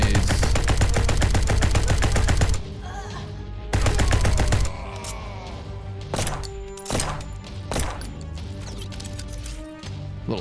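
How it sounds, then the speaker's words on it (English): Sidearm pistol with infinite ammo firing in the space game SpaceBourne 2: two long, rapid bursts of close, loud shots, then a few separate single cracks among quieter game sounds. "Little sidearm pistol with infinite ammo."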